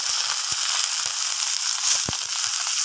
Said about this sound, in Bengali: তারপর তেলটা গরম হলে শুকনো মরিচ দিয়ে দেব।